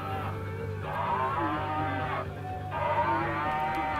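Several cows moo in long, drawn-out lows near a mini golf course, overlapping against a steady background hum, with a brief pause between calls.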